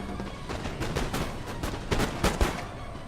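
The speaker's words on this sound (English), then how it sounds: "The artillery is ready. Fire when ready." Artillery and musket fire in the game Napoleon: Total War, a steady crackle of distant volleys with several sharper, louder booms standing out near the end.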